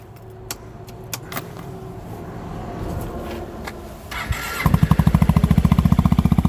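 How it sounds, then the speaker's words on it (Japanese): Yamaha Majesty scooter fitted with a Darkhorse exhaust muffler, first idling quietly amid clicks and rattles, then catching and settling into a loud, rapid, pulsing exhaust beat close by. "このダークホースマフラーのマフラー音を聞いてみたいと思います"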